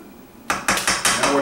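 A spoon scrapes and knocks against a pot of simmering corn chowder, five sharp clattering strokes in quick succession after a brief quiet start.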